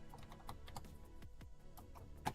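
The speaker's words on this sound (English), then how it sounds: "Why does this do this when we're typing?" Light, irregular keystrokes tap on a computer keyboard during a Kerbal Space Program session, a quiet close patter of clicks with a slightly sharper keypress near the end.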